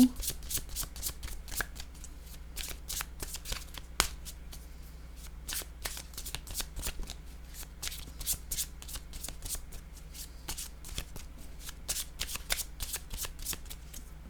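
Playing cards are handled, shuffled and drawn during a tabletop card game, a dense run of crisp snapping and riffling flicks repeating steadily throughout, close and fairly loud.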